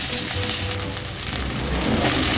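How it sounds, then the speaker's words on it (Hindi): Green chillies fry in a pan, giving a steady, dense sizzle and crackle that holds at an even level throughout, close and loud with no voices. "मिर्च को हमने 2 से 3 मिनट तक भूनना है, इसी तरह से फ्राई करना है। ये देखिए, मिर्चें हमारी फ्राई हो चुकी है।"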